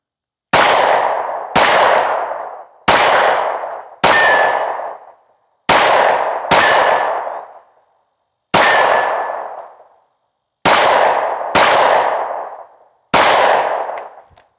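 An IWI Masada pistol fires ten rounds of SIG 124 grain V-Crown ammunition. The sharp, loud reports come one at a time at uneven intervals, and each shot rings out briefly before the next.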